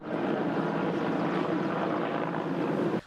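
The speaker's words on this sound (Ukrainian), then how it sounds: "Гелікоптери набирали воду із найближчих водойм та раз по раз поверталися до вогнищ" Firefighting helicopters shuttle water to blazes in the Kyiv area after a missile and drone attack, giving a steady, fairly distant rotor and engine roar with no voices.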